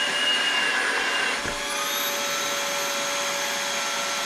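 An Osotek H200 vacuum cleaner runs steadily at close range, a loud even whine with a high motor tone that dips briefly midway before resuming unchanged, with no voices.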